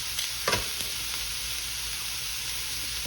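Shrimp cook in a pan for grilled shrimp and grits, giving a steady sizzle with a few brief scraping stirs near the start.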